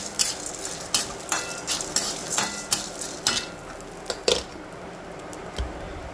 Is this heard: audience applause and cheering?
no